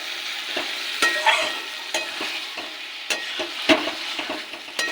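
Lote fish goes into hot, spice-fried oil for a Bengali fish jhal, producing a close sizzle with sharp spatters and repeated clacks of a spatula stirring in the pan.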